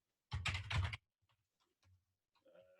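Typing on a computer keyboard: a quick burst of dense, close key clatter lasting under a second, then sparse faint taps and small noises trailing off in a quiet room.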